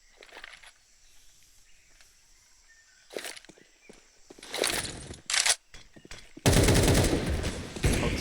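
Gunfire in an esports shooter game match: scattered close shots and rapid bursts rising to a loud volley near the end, with footsteps and quiet stretches between.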